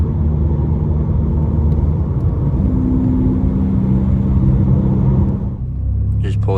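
A Mk6 Volkswagen Golf drives along and pulls up, heard as a steady, loud low engine and road rumble that eases slightly just before it stops.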